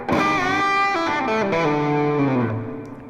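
Fast pentatonic lick on a distorted, effects-laden electric guitar, a quick run of bright, sustained notes sliding downward in pitch, played loud and alone before fading out.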